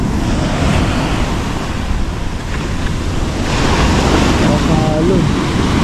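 Continuous roar of ocean surf with wind buffeting the microphone, steady and loud throughout with a faint tonal murmur near the end.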